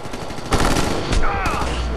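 Rapid gunfire in the video game Ghost Recon Future Soldier: loud bursts of overlapping shots that crackle and pop in quick succession over a dense battle din, with a brief high whine mid-way.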